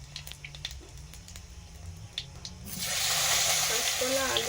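Panch phoron spices dropped into hot oil in a Bengali home kitchen, where fish has just been fried for a fish curry: a loud, steady sizzle bursts in partway through and continues, after a quieter stretch of faint kitchen sounds.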